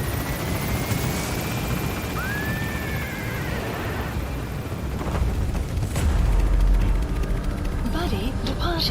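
Pequod, a helicopter in the video game Metal Gear Solid V: The Phantom Pain, climbing from a landing zone, a steady rotor roar with a rising whine and a low rumble that swells midway, under game radio voices.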